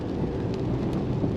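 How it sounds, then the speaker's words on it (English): Steady rain and road spray wash over a Mercedes-Benz GT53 on a wet, twisty road, a dense, continuous low rushing hiss with no voices, close and even throughout. "it's raining and it's extremely wet"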